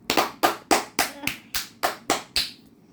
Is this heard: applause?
yes